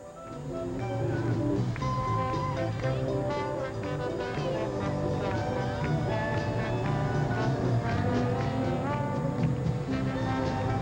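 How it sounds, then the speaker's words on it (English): A hospital-sponsored community band plays continuously through a 1998 town festival parade, the steady full-band music holding an even level throughout with no talk over it. "The Wellmont Health Center Reedy Creek Band."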